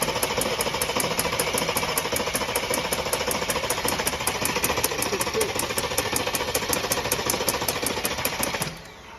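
A supercharged AMG M113K car engine runs steadily with a fast, rattling rhythmic knock, loud and close, then drops off abruptly near the end.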